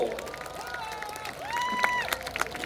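Outdoor festival audience at the Gangdong prehistoric culture festival clapping and cheering for a singer, a faint, distant spatter of applause and crowd noise with whistle-like tones running throughout.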